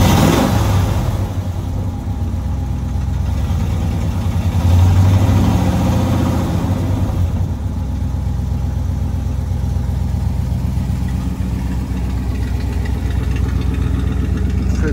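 A 1963 Ford F-250 pickup with a side exhaust idles close by, a steady low engine rumble holding even throughout with a brief swell in the middle and no talking.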